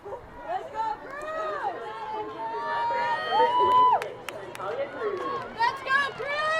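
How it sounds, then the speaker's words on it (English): Teammates at a women's soccer game cheer loudly, with bursts of whoops and high shouts rising over crowd chatter and nearby voices, the cheering swelling and falling throughout. "Teammates cheering loud for her."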